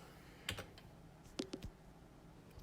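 Typing on a computer keyboard while writing Java code: a few quiet, scattered keystrokes in short clusters against a faint room background, with no talking.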